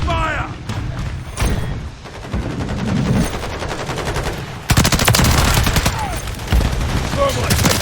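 Rapid automatic fire and sharp single shots rattle loudly in Modern Warfare 3, building into a sustained, dense barrage near the end, with shouted game voices mixed into the firefight.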